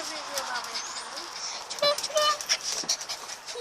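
A dog outdoors on an evening walk, heard as faint panting and brief whimpering yelps, with birds chirping in the background and some footstep patter.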